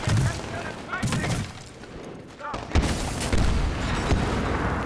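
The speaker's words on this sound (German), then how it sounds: "Sperrfeuer! Und Granate!" Grenade blasts and bursts of suppressive gunfire in the Medal of Honor: Warfighter shooter, heavy booming detonations and rapid shots filling the mix, loud and close, with a couple of sharp impacts standing out.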